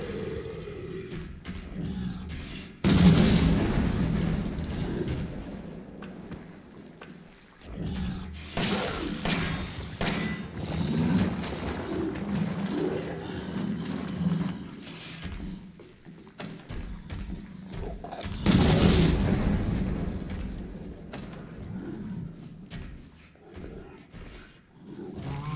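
Bomb explosions hit an enemy in the horror video game Resident Evil 7, several heavy booming blasts and thuds scattered among game noise, with creature growls between them.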